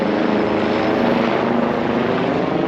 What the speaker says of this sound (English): We do have helicopters up on the sky here.